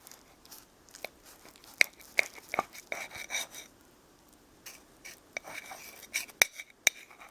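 Cheesy beef enchilada casserole being cut into at one corner, with scattered soft scrapes and sharp clicks of a utensil against the dish, fairly quiet and close, with no talking.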